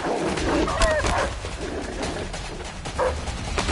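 Dogs bark and yip in a chase in a PS4 video game, with several sharp barks and whines close by over noisy game background.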